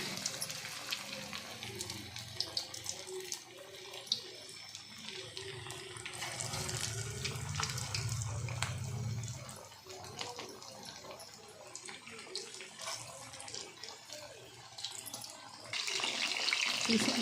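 Chicken kaima kabab frying in hot oil, a continuous crackling sizzle with watery bubbling, fairly close, shifting in intensity as pieces are moved, with no talk.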